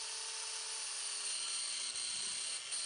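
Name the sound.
angle grinder with cutting wheel cutting spring bands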